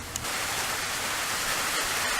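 Rain falls steadily in North Carolina, a soft, even hiss of drops on surfaces that stays constant and moderately faint throughout, with no voices.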